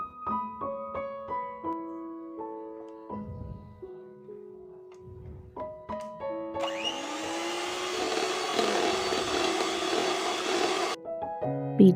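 An electric hand mixer whirs steadily through orange cake batter for several seconds, moderately loud and close, after scattered tapping and clinking of the beaters against the bowl.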